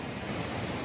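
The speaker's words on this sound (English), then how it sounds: "It's a nice waterfall." A waterfall on a hiking trail gives a steady, broadband rush of falling water, continuous and fairly strong with no other sounds over it.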